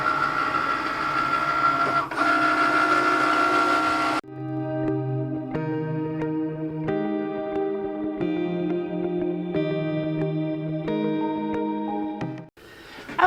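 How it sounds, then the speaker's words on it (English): A Cricut Maker cutting machine runs while cutting a reusable stencil, giving a steady mechanical whir with stepped, shifting motor tones. The cutting carries on for about eight seconds, and a louder noise comes before and after it. "when our Cricut light flashes, hit that and it will start to cut for us"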